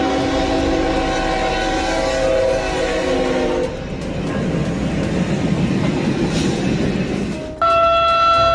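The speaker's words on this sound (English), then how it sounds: "A freight train crashed into an artillery car stuck on the tracks in South Carolina, U.S." A freight train rumbles past on tracks in South Carolina with loud, steady rolling noise, its horn blaring near at the start, fading into rail rumble, then sounding again sharply at the end.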